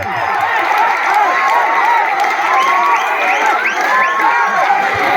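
A large crowd at a Kerala tug of war contest claps and cheers in a dense, continuous roar, with whoops and shouts rising above the steady applause throughout.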